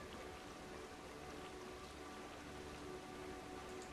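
Steady rain in Planet Coaster 2, a dense, even hiss of falling drops and patter on surfaces filling the whole stretch at moderate level, with no voices.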